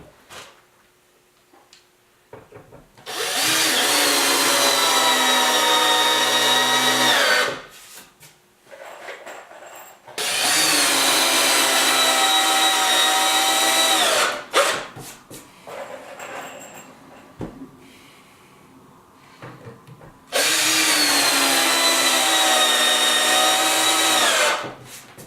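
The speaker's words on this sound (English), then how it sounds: "I'm putting 3 screws in every joist, and just making sure it's extra solid" A cordless power drill drives screws into wooden joists of a DIY reloading bench in three long, loud bursts of several seconds each, separated by quieter pauses with handling knocks and shuffling.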